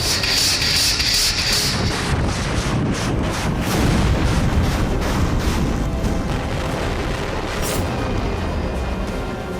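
Continuous heavy rumbling of distant artillery, rocket-launcher fire and explosions in Ukraine, dense low booms layered over a constant roar with no pauses.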